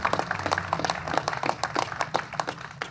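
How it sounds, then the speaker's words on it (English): Audience applause after a speech on BC forestry jobs, a steady patter of hand claps that is moderately loud and fairly close, heard alone without talk. "I think they deserve a round of applause"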